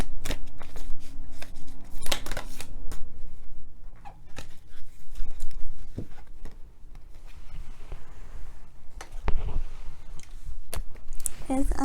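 Cards riffle and snap in repeated bursts of shuffling, with soft clicks and rustles between, close by, while a person talks quietly now and then.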